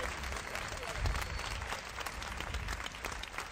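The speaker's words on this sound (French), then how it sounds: "On les applaudit bien fort, s'il vous plaît" Audience clapping after speakers at a podium, a continuous crackling wash of applause at moderate distance, with voices blended into the crowd noise.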